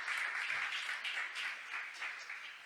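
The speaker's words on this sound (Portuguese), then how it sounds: "Pode aplaudir o Senhor" Worshippers at a church service clap together in a steady, fairly soft round of applause that carries on without pause and fades slightly toward the end.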